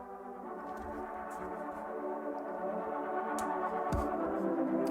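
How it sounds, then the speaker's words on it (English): Synth pad chords sustain as a slow progression, their notes drawn in MIDI for a song remix, a warm layered tone that swells steadily louder over about five seconds with no voices. "move it up to a pad where I can draw the rest of the notes for the chord progression"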